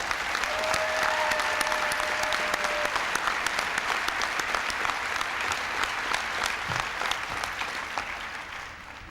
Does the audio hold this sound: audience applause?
yes